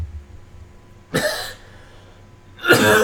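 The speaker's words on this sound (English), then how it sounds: "See, I'm coughing." Two short, harsh coughs about a second and a half apart, close by and fairly loud, with quiet in between.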